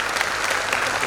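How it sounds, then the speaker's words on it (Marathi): An audience claps loudly and continuously for Kanak, a national-level abacus competition champion, at an award function, with dense, steady applause filling the short moment. "सगळ्यांनी एकदा जोरदार टाळ्या वाजवा कनकसाठी."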